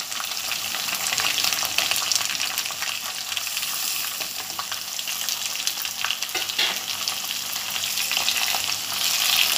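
Chopped green chillies and potatoes frying in hot oil give a loud, steady, crackling sizzle. It goes on without a break, with faint stirring underneath and no voices.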